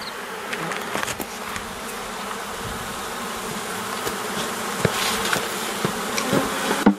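A dense, steady buzzing of many honey bees swarming close by as a hive is opened to requeen it, with occasional louder passes and faint knocks as a frame is taken out and bees knocked off.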